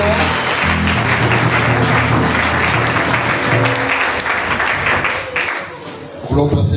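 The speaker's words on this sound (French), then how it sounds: "Au pas de course, Quickly, acclamons le Seigneur. let's clap this morning." A church congregation claps together in a sustained, loud burst of applause with voices mixed in, which thins out briefly near the end before picking up again.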